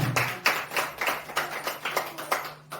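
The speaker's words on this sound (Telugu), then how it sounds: "చప్పట్లు గట్టిగా కొడదామా?" A church congregation claps hands loudly and in unison, a brisk, even beat of about three sharp claps per second with no other sound.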